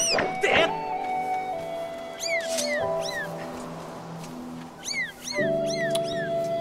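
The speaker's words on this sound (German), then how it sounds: "Böses Kätzchen. Ganz böses Kätzchen." Small kitten meowing in the video game Zelda: Skyward Sword, several short rising-falling mews in quick clusters over a quiet tonal game background, with a voice chattering around them.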